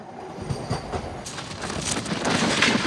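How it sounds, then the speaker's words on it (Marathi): A Vande Bharat train passes on the adjacent track, its rushing roar swelling loud and close beneath the steady clatter of the moving coach, heard from inside. "या भाई वंदे भारतची क्रॉसिंग"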